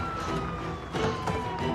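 An ambulance siren wails steadily in the background, its tone slowly falling, mixed with engine rumble and street noise.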